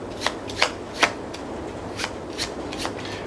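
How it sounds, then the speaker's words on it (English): Cards from a board game's action deck are shuffled, making a series of quick riffling snaps at a steady rhythm, close and fairly quiet, with no talking. "You're going to shuffle your action deck."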